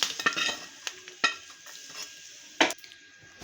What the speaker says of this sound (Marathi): खोबरं चांगलं लाल होईपर्यंत भाजायचं आहे